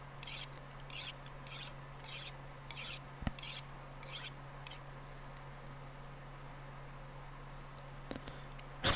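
Repeated rasping strokes of a blade being sharpened on a whetstone in The Long Dark, about ten evenly paced rubs at moderate loudness over a steady low hum, with a click near the end.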